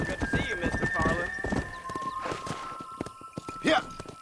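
Hoof clip-clop and a horse whinny in the video game Red Dead Redemption on PS5, steady hoofbeats running under people talking, with the whinny rising near the end.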